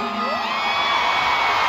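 A concert crowd at a show cheers and whoops loudly, a dense wash of shouting voices filling the whole moment without pause.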